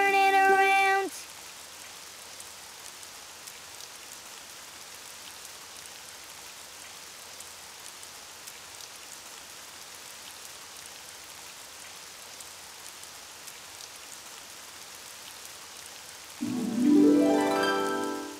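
Steady rain falls outside in a children's cartoon, a soft, even hiss that lasts throughout, with brief musical tones at the very start and again near the end.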